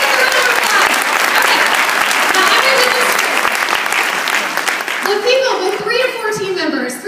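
Loud audience applause at a career event fills most of the clip, dense and steady, then thins as voices and chatter rise near the end.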